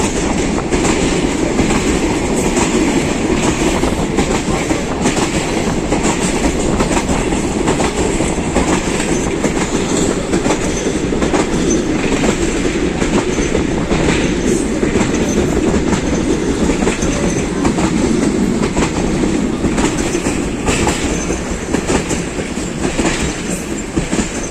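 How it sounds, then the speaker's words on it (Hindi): A rail car crosses the Jhelum river bridge in Pakistan at very slow speed, giving a steady, loud, continuous rumble with rhythmic wheel clatter throughout and no speech. "बहुत ही स्लो स्पीड में पास हो रही है आज दरियाए झेलम के ऊपर से ट्रेन।"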